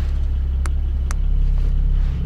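The naturally aspirated 4.0-litre flat-six of a Porsche 718 Boxster GTS runs with its exhaust valves open, holding a steady, deep, close engine drone throughout with a couple of faint clicks.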